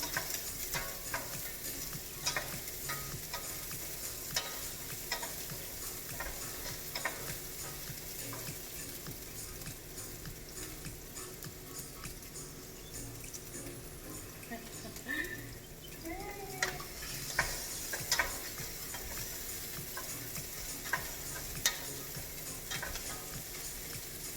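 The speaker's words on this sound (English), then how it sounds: "Just keep on stirring it, so you don't want it to burn." Onions frying in a pan for a Nigerian plantain and spinach sauce, a steady close crackling sizzle broken by scattered scrapes and clacks of stirring, running throughout with faint, low voices at times.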